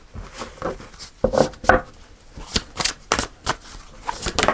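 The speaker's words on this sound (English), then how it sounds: "Let's just shuffle one more time." Tarot cards are shuffled by hand close up, with a run of crisp papery riffles and soft slaps arriving in irregular bursts.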